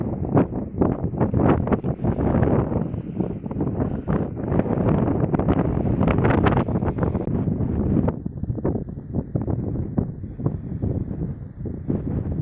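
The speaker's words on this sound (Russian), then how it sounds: "Извиняюсь за ветер." Strong gusting wind buffets the microphone outdoors in a snowstorm, a loud continuous rumbling roar with rapid bursts that drops slightly toward the end, with no other sound standing out.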